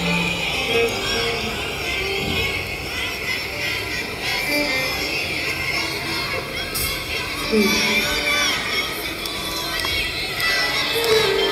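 Concert audience at Coca-Cola Arena in Dubai for a 2024 show, a dense crowd roar of screaming, whistling and cheering that stays loud and steady throughout, without clear speech above it.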